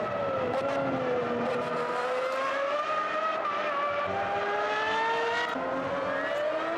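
A race car at the Italian Grand Prix in a classic Grand Prix racing game drives at high revs. The engine drone rises and falls steadily with changing pitch, up close and loud throughout, with no voices.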